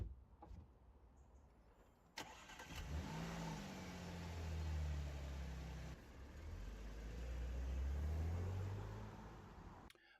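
A car runs along the road, its engine rising and falling through two steady surges of acceleration, heard from inside the cabin with a couple of sharp clicks and no talking.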